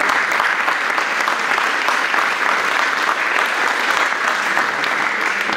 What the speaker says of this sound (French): donc on peut applaudir encore une fois